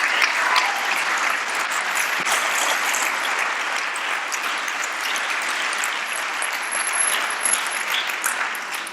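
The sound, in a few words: audience applauding in church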